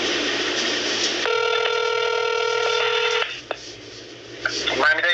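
Telephone call being transferred to the Miami-Dade Police internal affairs line: a line hum, then a steady electronic tone burst lasting about two seconds, followed by quieter line noise and a brief voice at the end.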